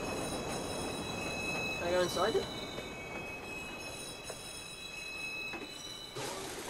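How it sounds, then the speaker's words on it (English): A subway train in the Watch Dogs video game pulls in and runs along the tracks, a steady rumble with a brief squeal, under a player talking. "Northbound train arriving shortly."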